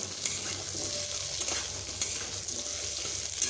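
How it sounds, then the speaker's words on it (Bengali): Cut potatoes fry in oil in a pan beside fish for a recipe, a steady close sizzle broken by spatula scrapes and taps while stirring, with no talk. "আমি টাইম সেভ করার জন্য একসঙ্গে ভেজে নেব"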